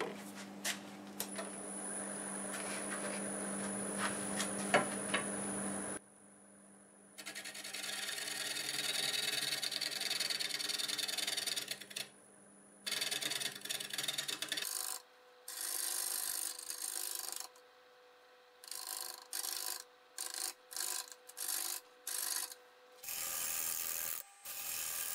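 A wood lathe turning a flame maple burl, with a tool scraping and cutting the spinning wood in bursts; the steady hum is joined by rough rasping passages, then choppy intermittent cuts with short pauses between them.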